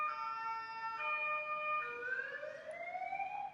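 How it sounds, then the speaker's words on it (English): An ambulance siren wails across the whole stretch, a loud clear rising and falling tone that sweeps upward in pitch as the vehicle passes, with no talking. "Sorry for ambulance sounds."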